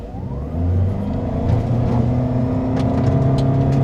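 A Toyota Veloz Hybrid in power mode accelerates hard, its drivetrain whir climbing steadily in pitch and growing louder over a few seconds, heard from inside the cabin with no talking.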